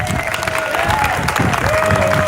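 Crowd noise at the Erie County Fair opening ceremonies, a steady loud wash of audience sound with a whistle-like tone gliding over it, continuous throughout.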